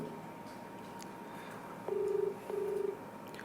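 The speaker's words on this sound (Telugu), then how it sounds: "రాజేష్ ఫోన్ రింగ్ అవుతోంది." Two short electronic ringback tones, a burst then a pause then another, faint over a low background hum.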